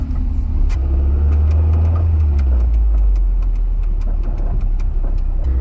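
A first-generation Mazda MX-5 Miata engine idles steadily nearby, a deep, even rumble with a light ticking rattle on top and no revving.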